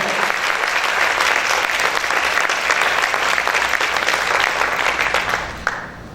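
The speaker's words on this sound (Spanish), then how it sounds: "Vamos a aplaudir fuerte al Señor." A church congregation claps loudly and steadily at a worship service, a dense wash of applause that holds strong throughout before tapering slightly at the end.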